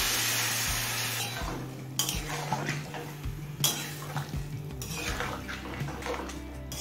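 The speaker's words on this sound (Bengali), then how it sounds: "এখন অল্প পরিমাণে একটু গরম জল দিয়ে দিচ্ছি" Hot water poured into pumpkin and capsicum in a pan, followed by stirring: a rushing splash and hiss, then clinks and scrapes of a spoon against the pan, close by with no one speaking.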